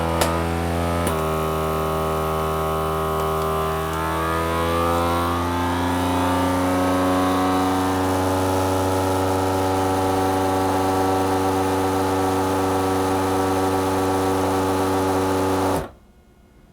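A vacuum sealer sealing a bag of ribs for sous vide cooking, a loud steady motor hum with a rising, shifting pitch as the air pulls out, running continuously before cutting off abruptly.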